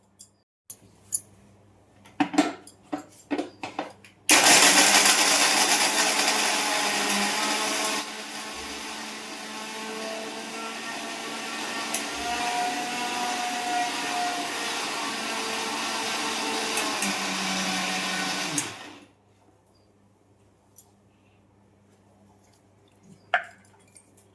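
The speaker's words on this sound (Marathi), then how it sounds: "असा मी काजू टाकते दळायला आता हे मी दळून घेते" A mixer grinder grinds cashews, starting abruptly with a loud steady whirring roar that runs about fifteen seconds at a slightly shifting pitch before cutting off. Sparse clicks and handling noises come before and after.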